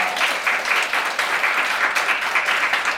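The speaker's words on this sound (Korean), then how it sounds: "또다시 박수 부탁드리겠습니다" Steady applause from a concert audience, many hands clapping continuously at an even level throughout.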